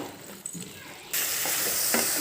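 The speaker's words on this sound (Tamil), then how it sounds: "இப்போ நல்லா நம்ம வதக்கணும்." Country chicken sautéed with chicken masala and Kashmiri chilli powder in a pan: a faint sizzle with scraping stirs, then a sudden loud, steady frying hiss broken by a few spatula scrapes.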